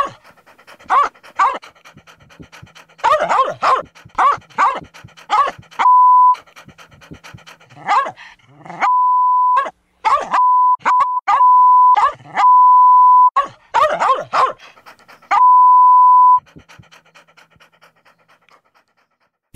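Dog panting in a TV advert for Fido dog bones, loud close bursts of breathy huffing broken up by repeated electronic bleeps, fading out toward the end.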